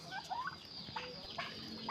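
Farm-raised turkeys call with several quick, rattling gobbles in short bursts, fairly faint over a noisy outdoor background.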